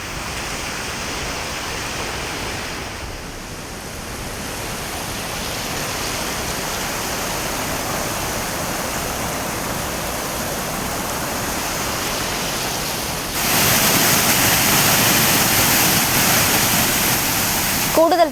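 Steady roaring rush of floodwater at Agasthiyar Falls, constant and broadband, swelling louder near the end as if closer to the torrent.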